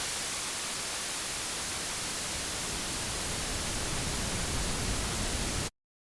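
Zebra2 software synth noise passed through a shelf EQ filter, a steady, dense hiss with the low end gradually lifting, constant and loud, cutting off abruptly near the end.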